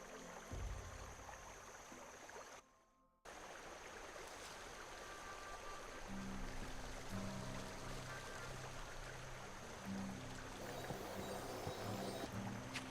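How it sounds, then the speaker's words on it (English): A swift, cold, heavily babbling brook in the adventure game The Night of the Rabbit, heard as a continuous rushing, gurgling water noise that drops out briefly near the start and then flows on steadily with faint low tones beneath. "A swift, cold, heavily babbling brook."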